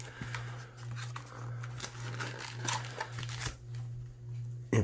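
A Topps Chrome baseball card hanger box is opened close up: quiet shuffling and rustling of cardboard and packs, with soft handling taps and a steady low hum underneath.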